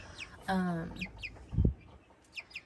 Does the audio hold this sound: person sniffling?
no